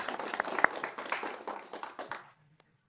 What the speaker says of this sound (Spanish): quiero felicitar y dar un gran aplauso a Juana y a todos ustedes por venir aquí